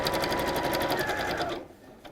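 A sewing machine stitching fabric for a pleated bag: a rapid, rhythmic mechanical chatter close by that runs steadily for about a second and a half, then stops abruptly.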